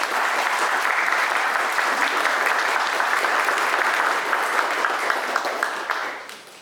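Conference audience applauding before a talk on IoT in natural disaster prevention, dense sustained clapping from a full room that holds steady and then fades out at the end.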